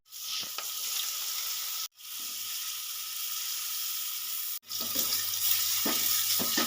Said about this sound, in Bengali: তেল ভালো মতন গরম হয়ে গেছে এবার আমি তেলের মধ্যে দিয়ে দেবো গাজর